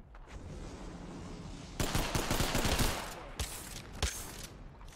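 Shotgun blasts from the Mozambique in the video game Apex Legends, a burst of several rapid loud shots followed by two more separate bangs over steady game background noise.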